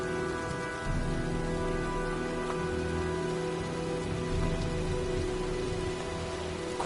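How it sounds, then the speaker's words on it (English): Steady rain pattering down in the video game Heavy Rain as a storm approaches, a dense constant hiss with low tonal game music humming underneath, while someone speaks briefly over it. "looks like a storm's coming"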